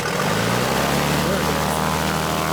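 An airplane engine drones loudly and continuously as it is throttled up, a close, steady propeller roar with no break.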